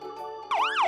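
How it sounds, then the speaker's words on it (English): A police car siren starts abruptly halfway through and wails in a rising and falling sweep, loud and close, over a steady tonal background hum. "Here's a police car."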